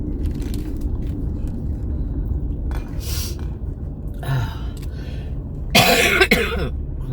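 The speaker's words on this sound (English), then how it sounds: "I wouldn't mind coughing if something would come up, but it's just laying in my chest." Someone nearby coughs a few times, including one loud harsh cough near the end, over a low rumbling engine hum.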